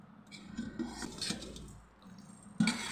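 A spoon scrapes and clinks against a container while sugar is added to milk for a fruit salad, soft scraping strokes ending in a sharper knock.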